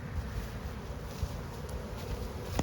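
Honey bees returning to the hive carrying pollen make a close, steady buzzing drone with a soft flutter of wings throughout.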